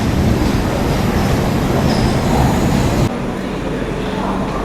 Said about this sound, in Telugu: విజయవాడ జంక్షన్కి మన ట్రైన్ ప్లాట్ఫామ్ 1కి అయితే వచ్చింది